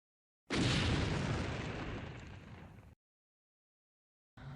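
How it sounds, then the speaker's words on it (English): A large battlefield explosion erupts as one loud, broadband boom that rolls and decays over about two seconds, followed by silence and the onset of another blast. "Explosions echo across both lines, neither side willing to back down."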